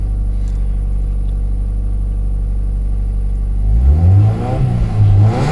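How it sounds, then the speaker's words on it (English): A Mazda Miata with a Racing Beat exhaust idles roughly on a cold start, then its engine revs up in a couple of short, loud, close bursts. "I don't want to rev it too high since it hasn't warmed up yet."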